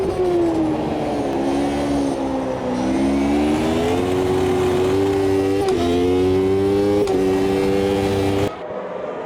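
A 1993 Formula 1 race car in the AMS2 racing game screams at high revs, loud and continuous, with the pitch shifting through several gear changes before cutting off abruptly at the end.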